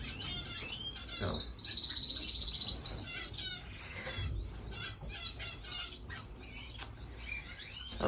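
Small owl finches in a home bird room, giving scattered high chirps, tweets and squawks over a faint background of insect-like trilling, moderately near and fairly quiet.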